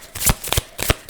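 Tarot-style message cards being shuffled by hand, three quick riffling bursts of papery flutter and slaps close to the microphone, with short pauses between them and no voices.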